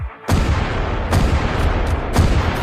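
Heavy Abrams tank cannon blasts boom one after another at irregular intervals, each followed by a long rumbling roar that fills the space between shots.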